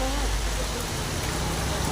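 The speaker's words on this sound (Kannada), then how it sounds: "ಬರೀ ಮಳೆ ಮಳೆ ಮಳೆ ಮಳೆ." Heavy rain pours steadily in Mumbai, a dense, continuous hiss of drops on surfaces that fills the whole stretch evenly at a loud, unbroken level with no pauses.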